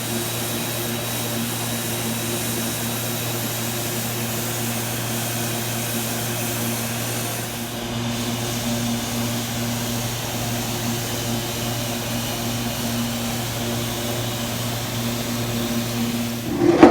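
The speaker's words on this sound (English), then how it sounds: "So he is going to bead blast all this stuff out of here" A bead blaster works on parts from a 1973 Kawasaki Z1 motorcycle tank, producing a steady, loud, droning roar with a constant hiss layered over a low motor hum that barely changes for the whole stretch, with no voices.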